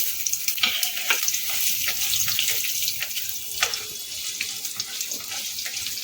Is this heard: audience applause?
no